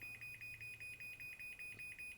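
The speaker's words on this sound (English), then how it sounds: "I close, it makes a little beeping sound," Rapid series of high electronic beeps in a steady repeating rhythm from a MyQ smart garage door opener warning as the door closes, fairly quiet, over a low background hum.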